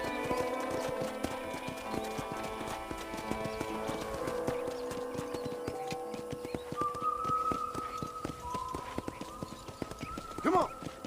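Horse hooves clip-clop steadily as a horse is ridden through a ranch in the Red Dead Redemption video game, with a whinny and game music alongside and a brief louder accent near the end.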